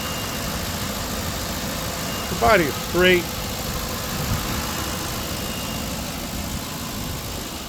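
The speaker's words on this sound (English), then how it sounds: "Idling nice and smooth." A 2011 Ford Crown Victoria Police Interceptor idles close by with a smooth, steady low rumble, while someone speaks briefly over it.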